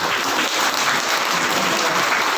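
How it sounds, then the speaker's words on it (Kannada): Audience applause at a ceremony honouring women government employees: dense, steady clapping from a crowd, filling the whole short stretch at even loudness. "ಚಪ್ಪಾಳೆ ಸಾಲದು"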